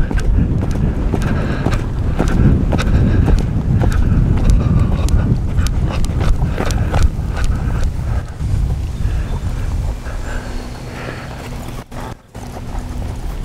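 Hoofbeats of a horse jumping out and breaking into a run during a riding lesson, thudding against heavy wind noise on the microphone before fading into a windy rumble.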